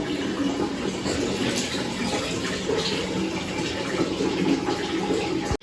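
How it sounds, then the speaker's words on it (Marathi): Water runs steadily from a tap into a container during morning water filling at home, a continuous close gushing stream that holds even throughout. "येऊन मला पाणी भरायला लावलं आता"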